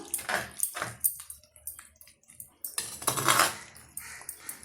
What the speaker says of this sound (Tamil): இப்போ மிக்ஸ் பண்ணி விட்டுக்கலாம்.